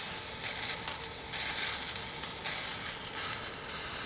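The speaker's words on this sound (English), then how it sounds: "by letting it boil for a bit, you can also reduce it to make it thicker and slightly more syrupy" Pan juices boil and reduce on the stove, giving a steady, fairly quiet bubbling sizzle and hiss that runs without a break, with no voices over it.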